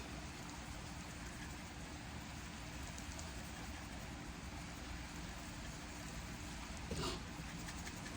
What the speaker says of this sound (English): since the rain started